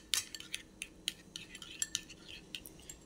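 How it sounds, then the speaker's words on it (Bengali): A spoon clinks against a bowl while yogurt is mixed into a cashew paste, giving a series of light, close metallic taps at an irregular rhythm over a faint background. "দইটা আমি মিশিয়ে নিচ্ছি।"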